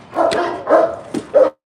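Dogs bark loudly and close up ahead of feeding time, giving four quick barks and yips in a row with a short whimpering edge, then fall silent.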